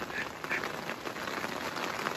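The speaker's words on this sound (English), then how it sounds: "Oh dang, it's raining hard." Heavy rain falls as a dense, steady hiss with scattered patter, filling the whole stretch without pause.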